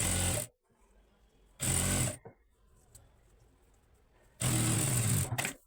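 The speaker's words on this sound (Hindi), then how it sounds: "इधर से 1/2 इंच का गैप छोड़ के इसको हमने इस टाइप से टर्न किया और इस पे सिलाई लगा देंगे।" Sewing machine stitching the turned hem of a semi-Patiala salwar, running in three loud, steady bursts of about half a second each, with quiet pauses between them.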